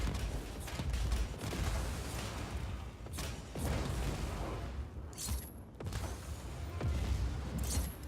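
Repeated booming explosions from a cloud of red barrels in the video game Just Cause 4, several bursts in quick succession with whooshes and debris-like crackle, loud and close.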